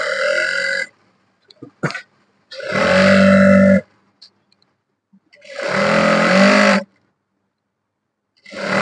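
A sewing machine stitches elastic onto a pair of women's three-quarter pants. Three separate bursts of a humming, buzzing motor run for one to two seconds each, with short quiet gaps and faint clicks between them. The sound is close and loud.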